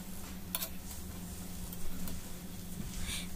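Fried potatoes stirred into a bottle gourd curry in a pan give a steady low sizzle with a few soft scrapes and clinks, close and even throughout with no talking.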